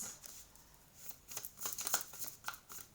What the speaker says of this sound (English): This is a new deck, so she shuffles a little bit slow, I've noticed.